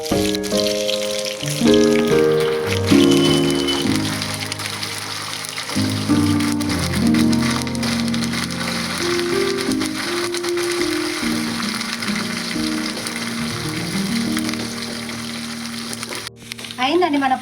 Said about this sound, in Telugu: పోపు దినుసులు వేసాను కదండి.